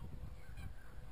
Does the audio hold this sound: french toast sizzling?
no